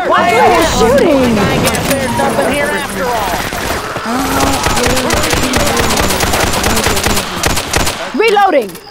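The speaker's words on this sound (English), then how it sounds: "Why are you shooting?" Rapid, loud bursts of gunfire in the video game Left 4 Dead 2, repeating steadily across the whole stretch under frequent overlapping voices and game sounds.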